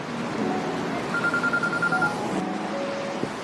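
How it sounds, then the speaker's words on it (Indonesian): A phone rings with an incoming call, giving a series of short electronic tones over a steady hum, heard at moderate volume. "Won Bin pun mendapat telepon dari Oh Jin yang lupa berterima kasih"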